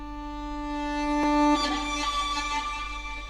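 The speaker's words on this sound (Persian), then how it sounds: "یه نوت ویالونی که اصلا کثیف هم هست بعضی جاهاش ولی خب داره" A sustained atmospheric violin note in a music arrangement, slightly rough in places, holding steady harmonics with a brief swell and a soft attack midway, alone without talk.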